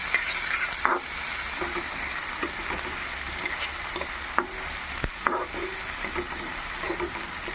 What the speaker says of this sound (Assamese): জিৰা গুটি দি দিছোঁ পিঁয়াজ দিছোঁ তাৰপাছত বিলাহীও দিয়ে দিছোঁ অকণমান লৰাই লৈছোঁ